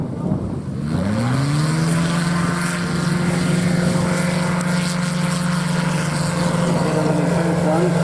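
A STOL aircraft at a short-landing competition, with the wind picking up: a close, loud, steady propeller drone whose engine pitch rises early and then holds, mixed with rushing wind noise.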